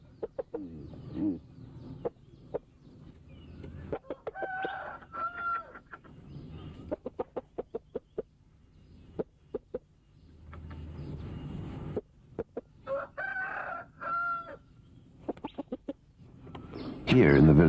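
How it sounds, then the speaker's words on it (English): Fighting cocks and other fowl in a village in southern Thailand cluck, cackle and crow at intervals, with sharp clicking sounds scattered throughout, at moderate distance with faint background talk. "or even fighting cocks."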